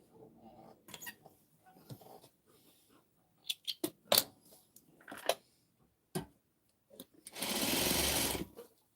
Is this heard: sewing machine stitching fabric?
yes